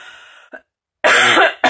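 Two or three harsh, close coughs from a person with chronic bronchitis in quick succession, separated by a short silence.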